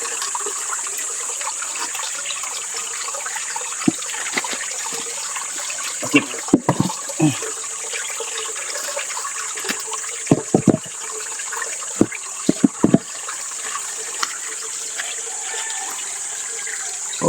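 Water runs steadily in a continuous hiss, with occasional knocks and clatters breaking through the flow.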